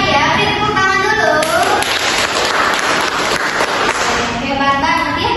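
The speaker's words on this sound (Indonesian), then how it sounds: "Beri tepuk tangan dulu." Students in a classroom clap together after a group presentation, a dense burst of applause rising and fading over a few seconds with voices chattering alongside.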